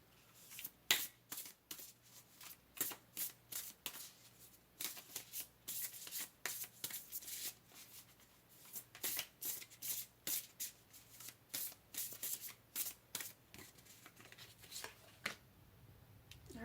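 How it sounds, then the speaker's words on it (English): Tarot cards are shuffled in quick, crisp riffles for a pick-a-card reading, in repeated short bursts of papery flutter, close and fairly quiet, with no voice over them. "So let's go ahead and pull a couple more cards here."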